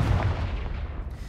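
Revelio spell cast in the Hogwarts Legacy video game, a loud, dense rumbling burst like a deep magical boom that sustains across the moment and thins slightly at the end, with no talking.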